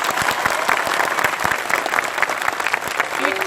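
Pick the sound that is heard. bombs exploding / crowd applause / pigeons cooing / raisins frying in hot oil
crowd applause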